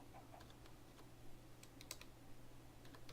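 Keys on a computer keyboard tapped faintly in scattered quick clusters against a low steady hum, entering a search in a Minecraft modpack menu, with no talk.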